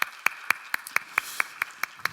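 People at a church youth service clap together in a steady rhythm, about four crisp claps per second, evenly spaced and moderately loud with little else around them.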